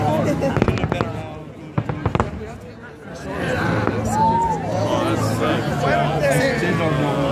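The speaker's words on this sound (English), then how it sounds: "Can you see the fireworks?" Fireworks burst over Lake Tahoe as several sharp cracks and booms early on, then a rumbling crackle and whistling streaks, while nearby people keep talking over the show.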